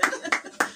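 Three sharp bursts of hand clapping land about a third of a second apart, mixed with a little laughter and talk, fairly close and moderately loud.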